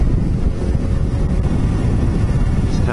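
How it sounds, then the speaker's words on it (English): Loud, rumbling wind buffets the microphone continuously while riding a Kawasaki Ninja 250 near Perth on a windy day, a heavy low roar with no talking. "but it's a pretty windy day out here."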